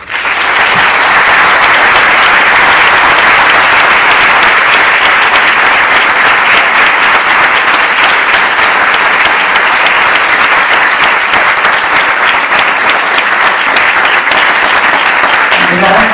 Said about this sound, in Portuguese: Um forte aplauso pediria para a Daniela